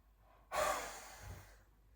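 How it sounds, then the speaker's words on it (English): A single forceful exhale through a wide-open mouth with the tongue out during a hatha yoga pose: one sudden, loud breathy whoosh that fades out over about a second. "forcefully exhale through the mouth"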